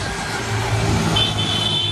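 A steady rumble of road traffic on a Chennai street, with a vehicle's engine and tyres rolling past close by, loud and continuous, with a faint high whine over the top.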